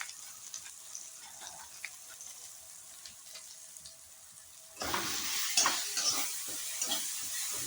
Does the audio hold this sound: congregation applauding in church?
no